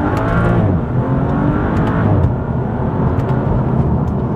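A BMW M235i or Lexus IS F driving on a chip seal road, a steady loud roar of tyre noise mixed with engine rising under acceleration, continuous and close throughout.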